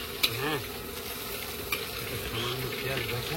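Green peas fry in a pan with onion and chilli, giving a continuous close sizzle with a couple of sharp clicks and faint tonal sounds in the background.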